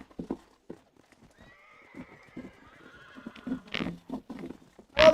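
Horse in the video game Red Dead Redemption: clopping hooves at an irregular walk, then a drawn-out, wavering neigh mid-clip, followed by more hoof thuds and a sharp snort at the end, all fairly quiet.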